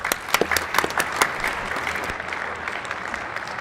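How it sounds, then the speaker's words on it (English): Applause in a Senate chamber during a floor session, a burst of scattered indoor clapping from a modest crowd that starts sharp and gradually thins out. "Please give them a round of applause."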